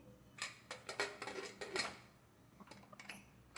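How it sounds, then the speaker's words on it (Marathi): A lid clatters onto a pressure cooker in a home kitchen while making traditional wheat kheer, a few sharp metallic clinks and knocks, then quieter handling. "आता झाकण लावून घेते"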